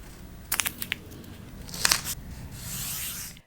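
Tape being pulled and applied to the sides of a wooden board, with sharp crinkling rips and tearing bursts, then a longer steady peel.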